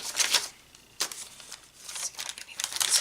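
Crinkling paper pieces handled inside a fabric journal bag, close and crisp, in short irregular bursts of rustling and crumpling with brief pauses between.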